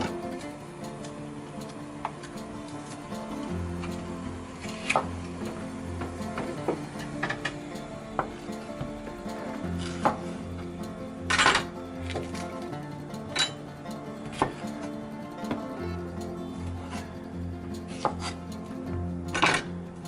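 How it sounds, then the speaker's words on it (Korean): Knife slicing bell pepper into thin strips on a cutting board, for stir-fried fish cake: a steady run of crisp, close chopping ticks and taps, with occasional louder clinks, no talk. "그리고 그냥 곱게 너무 두껍지 않게 채썰시면 돼요."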